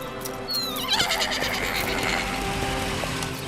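A horse whinnies in a busy outdoor setting, its neigh rising over steady background noise with faint clattering around it.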